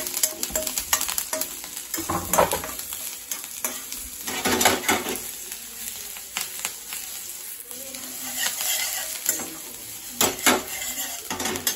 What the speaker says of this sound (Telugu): తర్వాత కొంచెం అల్లము, ఓకేనా, కొంచెం ఎల్లిపాయలు, ఇవన్నీ వేసి కొంచెం ఫ్రై చేద్దాము